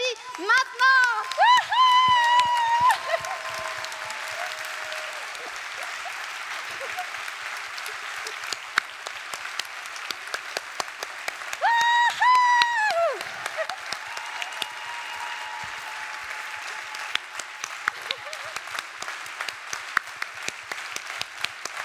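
Audience at a talk applauding together, a loud burst of clapping that swells in the first seconds, eases, and returns in a second surge mid-way; whistle-like tones and a voice over the crowd come and go.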